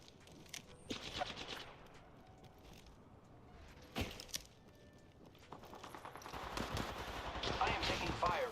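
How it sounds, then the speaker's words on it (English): Scattered gunfire in the video game Apex Legends, sharp shots and short bursts around one and four seconds and a denser rattle toward the end, heard under quiet team chatter. "I am taking fire, friends."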